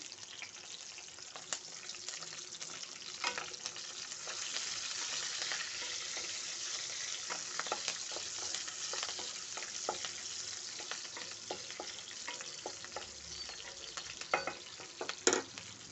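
Green chillies fry in hot oil for Telangana-style gongura chutney, a faint, steady sizzle broken by scattered crackles and pops, with no talking.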